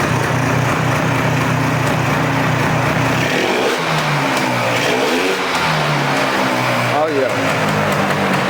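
A Polaris 400cc two-stroke ATV engine runs loud and close with a buzzing, high-pitched idle, then revs up and down through several throttle blips, with a short exclamation from a nearby voice.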